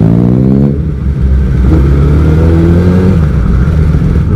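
A Kawasaki ZX10R superbike being ridden in Thailand, its engine droning loud and close with a harmonic whine that dips briefly then climbs steadily as the revs build under acceleration.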